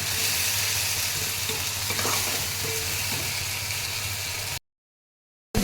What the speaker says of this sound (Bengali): আর মশলাটা দিয়ে একটু ভেজে নেব।